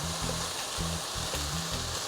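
Ground beef with onion sizzles loudly as it browns in a pan, a dense, continuous hiss with a low rhythmic thumping underneath and no voices.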